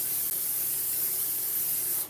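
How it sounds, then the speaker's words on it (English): Cooking spray hisses from a can onto a pan before fish goes in to cook, one steady close spray lasting about two seconds with a brief break near the start, then cutting off. "So I'm going to spray this a little bit because we don't want this fish to stick."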